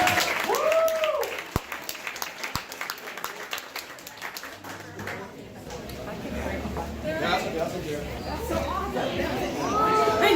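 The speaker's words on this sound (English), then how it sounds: "Give yourselves a nice round of applause one last time." Festival closing-night crowd applauding and chattering, a broad scattered clapping wash rising toward the end, with voices and cheers mixed through it.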